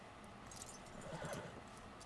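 Horse hooves in the video game Red Dead Redemption 2, heard as a faint, soft clip-clop that picks up briefly in the middle of a quiet stretch.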